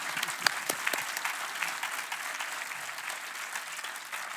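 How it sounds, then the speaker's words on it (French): Audience applause after a conference talk on European space strategy, a steady wash of many hands clapping at moderate distance, continuous and even throughout with no voices over it. "je crois qu'on peut l'applaudir"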